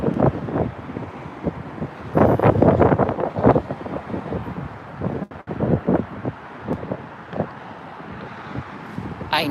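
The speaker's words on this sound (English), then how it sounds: "That wind is picking up." Gusty wind buffets the microphone outdoors at a tire shop, a loud rumbling roar that rises and falls in uneven bursts.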